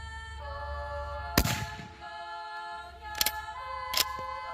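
A Swiss K31 rifle fires one loud, sharp shot outdoors in snow, with a decaying boom, followed by two lighter metallic clacks from working the bolt, over a steady background hum.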